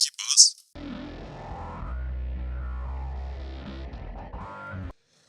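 A gritty, distorted bass tone from an effects processor plays steadily for several seconds after a brief noisy burst, heavy and fuzzy in the low end, then cuts off.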